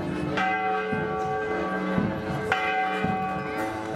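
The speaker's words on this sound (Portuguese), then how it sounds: "E também do sino, que embala toda a procissão." Church bell tolling during a Holy Week procession in Ouro Preto. Loud, resonant strikes repeat at a steady, swaying rhythm, each ring overlapping the previous one's long hum, with no talking.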